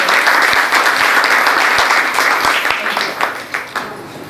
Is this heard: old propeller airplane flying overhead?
no